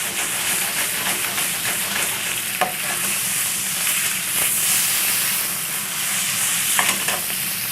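Food searing in a hot pan over a gas flame, a steady loud sizzle and frying hiss with occasional spits and stirring scrapes, no voices.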